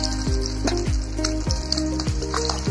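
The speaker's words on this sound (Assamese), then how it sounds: "মাছখিনি ভাজা হৈ গৈছে" Fish frying in hot oil for an Assamese fish curry with potato and tomato, a steady close sizzle with repeated scraping stirs at a regular pace, alone without voices.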